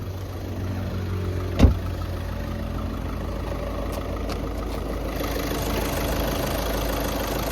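A 2012 Skoda Rapid's 1.6-litre turbocharged diesel engine idles steadily with a low, even rumble, one brief thump early on, no voices.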